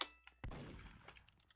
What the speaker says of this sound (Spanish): Escuché un disparo